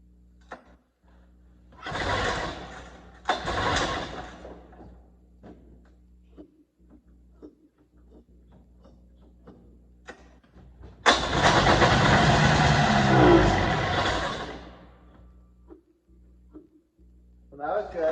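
A Ski-Whiz snowmobile engine is primed and cranked, with two short sputtering attempts followed by the engine catching and running loudly for a few seconds before cutting out, with voices speaking in the quieter gaps.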